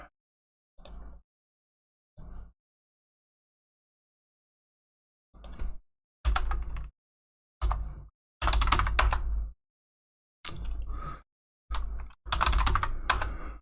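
Bursts of typing on a computer keyboard come in quick clustered clicks, close and fairly quiet, separated by silent pauses.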